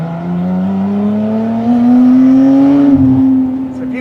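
A Lotus Emira sports car driven hard into a corner, its engine note humming steadily and rising slightly in pitch before easing off, loud and close throughout.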